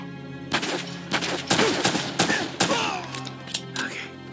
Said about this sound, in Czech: Já tady do něj střílím